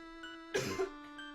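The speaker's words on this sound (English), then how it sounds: "really needs to cough like 8 times today" A single short, close cough bursts out once over a steady electrical hum, with faint breathy sounds around it, during a quiet recording session.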